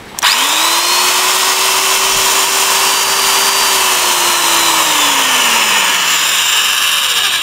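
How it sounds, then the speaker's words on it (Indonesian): Electric power drill running close and loud without load, its motor whine rising sharply at the start, holding steady, then dropping as the variable speed trigger is eased off. "Nah, kecepatan bor berubah."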